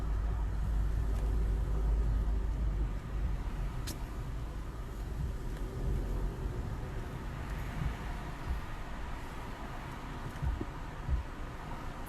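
Car traffic crossing the Brooklyn Bridge in New York, a low steady rumble of engines and tires, loudest at the start and then easing into a continuous, somewhat distant drone with no talk.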